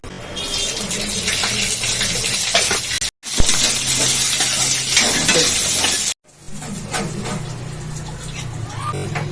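Green chillies, coconut and peanuts fry in oil in a pan, a loud continuous sizzle with scraping stirring throughout, broken by two brief cuts.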